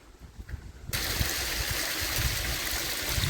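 Cold mountain stream water near Suryanelli, on an off-road track toward a tea factory, suddenly fills in as a loud, steady broadband rush after a quieter, rumbling opening.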